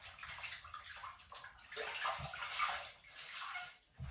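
A face cloth is rinsed and swished in sink water during a skincare cleansing routine, giving a continuous close splashing and gurgling with no talk.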